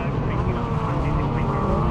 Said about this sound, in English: The BMW Minis trying their best to keep pace with the 2 Citroens.